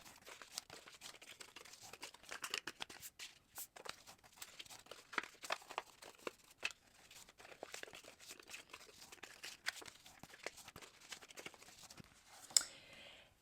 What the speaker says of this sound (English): you need to feel where the score lines are and go ahead and just give it a good crease